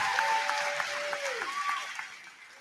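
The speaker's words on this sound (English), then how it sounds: "One more round of applause for our Athenas and Clydesdales." Applause from the crowd at a live awards ceremony for an endurance obstacle race, fairly quiet and fading, with whoops and voices rising over the clapping.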